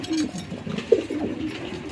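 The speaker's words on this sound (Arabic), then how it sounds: "حمام الله اكبر، تكوين محترم جدا جدا جدا" Imported German Dilber pigeons coo in a low, soft murmur at close range, with a denser flock rumble beneath and one brief louder coo partway through.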